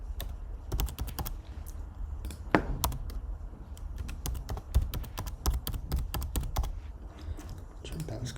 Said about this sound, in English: So we'll type those in here.